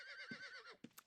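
Horse whinnying in Ultima Online, one short quavering neigh, faint and brief, ending with a couple of soft thuds.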